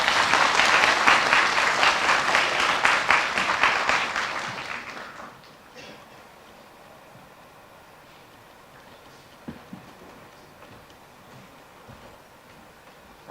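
An audience at a Beijing graphic design seminar applauds to welcome Hong Kong designer Kan Tai Keung: dense, fairly loud clapping for about five seconds that fades into a quiet, murmuring room.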